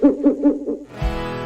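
Owl hooting sound effect in a radio show jingle: four quick rhythmic hoots, loud and close, followed by a burst of noisy music or effect.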